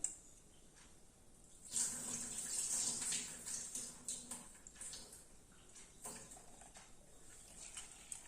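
Tap water runs into a sink while urad dal is washed, a faint splashing stream that swells loudly for a few seconds, then eases into quieter intermittent trickles and rinsing.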